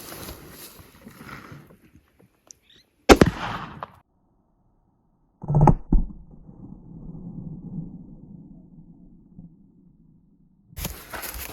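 A rifle fires PMP soft point hand loads into bulletproof glass outdoors, giving sharp, loud bangs spaced several seconds apart, each with a brief rumbling decay, amid quiet stretches.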